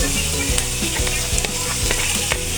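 Food sizzles and fries in a hot pan while being stirred for escabeche, with a dense continuous crackle and irregular scraping knocks of a utensil throughout.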